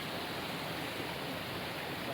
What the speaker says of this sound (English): We've got a nice little waterfall there